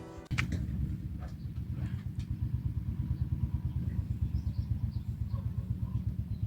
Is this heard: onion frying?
no